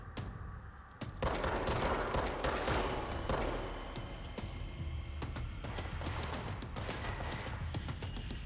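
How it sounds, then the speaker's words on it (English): Sustained gunfire in the action video game Control: after a brief lull, dense bursts of automatic fire and single shots ring out almost continuously, loud and close, with no talking. "Someone's shooting from over there."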